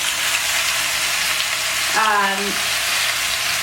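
Thinly sliced sweet potatoes frying in a hot iron skillet, a loud steady hiss of sizzling oil throughout, with a brief tonal clank midway.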